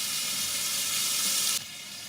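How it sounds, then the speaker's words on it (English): Pancetta crisps in a pan with a steady, bright sizzle close by, alone without talk, before the frying noise drops away sharply near the end. "I'm just going to crisp up the pancetta."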